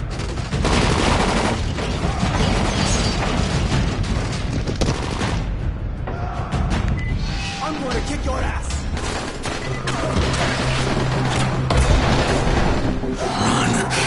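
Video game gunfire, dense and continuous, with repeated loud shots, booms and mechanical clatter mixed with game voices and music throughout.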